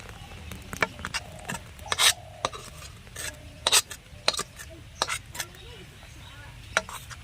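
A spoon stirs thick jackfruit jaggery in a wok as it cools, making repeated sharp scraping clicks and taps against the metal, close-up in a fairly steady uneven rhythm, with no voices.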